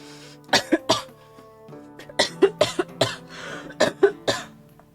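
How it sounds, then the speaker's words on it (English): Repeated harsh coughing and throat clearing from one person, close and loud, arriving in short clustered bursts over a faint background tone. "I have to cough every 2 minutes."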